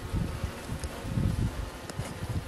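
Honey bees buzzing around an open hive during an inspection on a rainy day, a soft steady drone with swelling low hums as bees fly close, faint and alone without voices.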